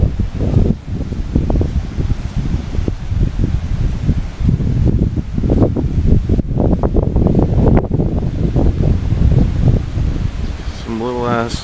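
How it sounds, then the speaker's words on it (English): Strong outdoor wind during Hurricane Irene roars and buffets a microphone in continuous, uneven gusts, with rustling throughout and a faint mechanical whir near the end. "It's just windy out"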